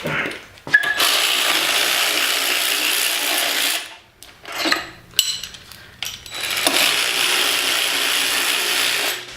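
A hand ratchet removing engine head bolts during an LS VTEC kit install, with rapid clicking bursts of the pawl separated by pauses and brief metallic clinks of bolts and tools.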